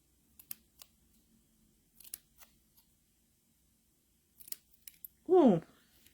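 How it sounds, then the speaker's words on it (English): A paper trimmer slices through cardstock in one quick, loud swish near the end, after a series of soft taps and handling clicks. "What do you call the paper trimmer?"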